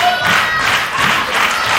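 A wrestling crowd cheering for Mark Haskins during an international singles match, a steady roar of clapping and shouting that carries on without a break.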